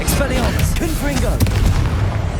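Confringo fire-blast spells in Hogwarts Legacy go off in booming bursts with a sharp crack, mixed with busy combat noise and vocal grunts.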